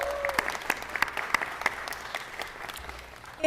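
Scattered handclaps from an audience at a Los Angeles city council meeting, sparse and fairly faint, a thin round of applause without voices.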